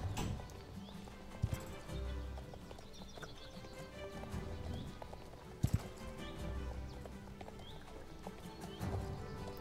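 Horse hooves galloping and landing jumps in a horse-riding video game, with a steady run of hoofbeats and a few sharp thuds over continuous game music and ambience.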